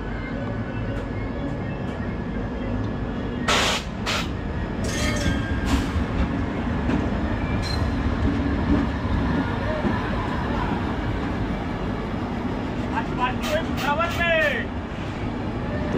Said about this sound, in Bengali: তো এই যে ট্রেনটা যাচ্ছে